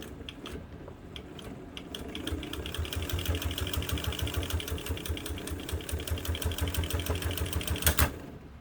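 A Kenmore 117.552 sewing machine stitches through three layers of leather with a regular mechanical clatter that speeds into a fast, steady run, then ends in a sharp crack as a non-leather needle breaks.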